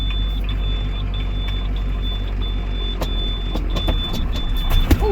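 A 2007 International 4200 truck that had sat unused for over five years idles steadily and close by, with a low continuous engine rumble, a thin high whine and a few sharp clunks and knocks near the end.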